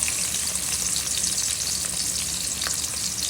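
Onions frying in oil for a fish and taro curry, a dense, steady crackling sizzle close up with faint stirring, no talk.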